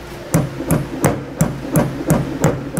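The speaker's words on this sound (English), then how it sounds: "Might have to use a small screwdriver or hammer or something to tap it all the way." A hammer taps a Curt Class 3 2-inch trailer hitch receiver part into place on a 2017 Mercedes GLS 450, giving eight sharp, evenly spaced metallic knocks, close and clear with no talk.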